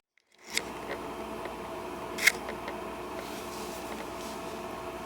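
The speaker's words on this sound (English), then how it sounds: "So that's just the converter running." An RV power converter runs as a steady, broadband electrical hum and hiss that starts suddenly, with a couple of faint clicks or ticks along the way.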